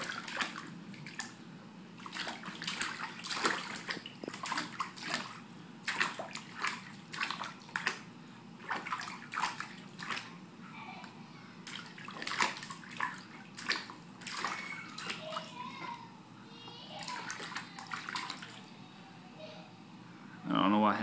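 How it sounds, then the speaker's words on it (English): An infant splashes in bath water, producing repeated irregular slaps and sloshes at close range, with occasional voices in the background throughout. "The big guy's taking a bath and he just figured out how to splash."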